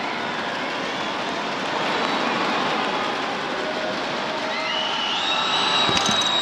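A home crowd roars continuously inside a basketball arena at Changhua County Stadium, a broad sustained wash of noise with a commentator talking over it.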